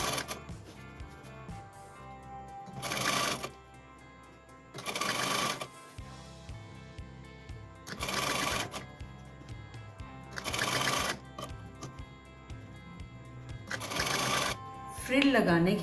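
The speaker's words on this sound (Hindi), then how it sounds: "अब हम इस लाइन पर ये स्ट्रिप रख करके परमानेंट स्टिचिंग करेंगे।" Sewing machine stitching a fabric strip onto a kurti tunic, running in several distinct bursts of a few seconds each, with pauses between them where someone talks.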